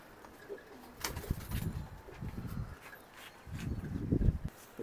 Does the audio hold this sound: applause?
no